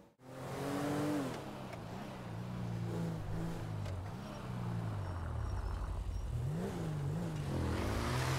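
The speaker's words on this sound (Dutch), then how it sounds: "Ja, gaat de motor vandoor" A motorcycle engine in a roleplay video game revs and pulls away, its pitch rising and dipping across several gear shifts in a steady, fairly loud drone with no talk over it.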